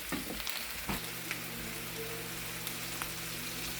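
Potato slices frying in a pan with eggplant give a soft, even sizzle and crackle throughout, with a couple of brief knocks near the start and no speech.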